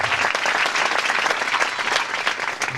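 An audience at a student conference claps together in praise, a dense, even burst of applause filling the space for a few seconds, loud and close with no speech over it.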